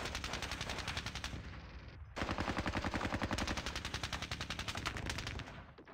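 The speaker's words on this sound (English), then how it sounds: "Heavy return fire there." Rapid machine-gun bursts in the wargame Squad Battles Red Victory at Ponyri, loud and dense, a brief pause partway, then sustained fire resuming until it tapers off.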